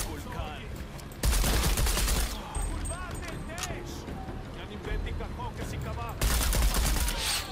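Enemy gunfire in Shadow of the Tomb Raider, loud bursts of rapid shots and fusillades in two main volleys with scattered shots between, under a busy game soundscape with some talk.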